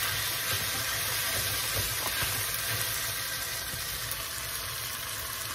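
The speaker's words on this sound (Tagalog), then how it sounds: "Ang ating miso. Igisa po natin." Miso sautés in a hot pan for a fish sinigang, giving a steady, even sizzle and hiss with faint stirring ticks, alone and moderately close.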